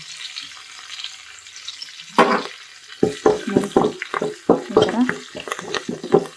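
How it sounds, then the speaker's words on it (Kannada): Deep frying in oil for coriander puliyogare, made without garlic: a soft steady sizzle, then a run of close, sharp spoon-stirring scrapes and clatter in the pan, with a little background noise. "ಫ್ರೈ ಮಾಡ್ಕೊಳ್ಳೋಣ ನೀಟಾಗಿ ಡೀಪ್ ಫ್ರೈ ಆಗಿ ಬೇಯಲಿ"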